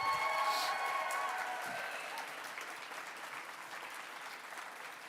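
Crowd applause for a performer at a convention mainstage cabaret show, loud at first and then slowly thinning and fading as the clapping continues.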